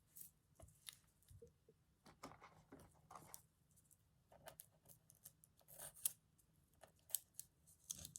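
Fabric scissors snip out a cut piece of cloth for a stitched garden and gate panel, giving quiet, close, irregular crunching snips and rustles spread across the whole stretch, with no talking.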